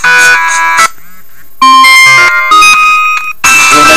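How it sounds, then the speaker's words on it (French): An electronic ringtone from a Clap mobile phone plays in loud melodic bursts with short pauses between phrases, bright and close, with no talking. "Le plus, c'est déjà des sonneries qui sont déjà pas mal."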